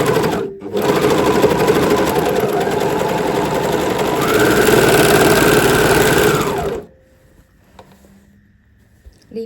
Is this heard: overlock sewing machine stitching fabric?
yes